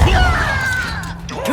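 A Bombarda blasting spell going off in Hogwarts Legacy, a single crashing impact that quickly rings out into a fading, mechanical-sounding tail.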